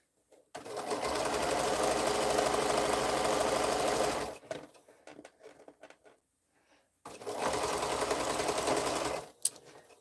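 A sewing machine stitches quilt pieces together in two steady, close bursts of rapid mechanical whirring, separated by a few seconds of quieter handling sounds, with no talking.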